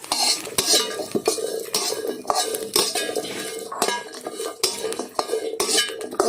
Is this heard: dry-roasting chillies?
yes